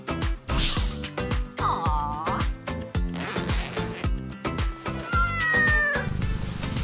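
Cat meows ring out in bursts over a busy, loud musical backing, several short rising calls spread across the passage, with no talking.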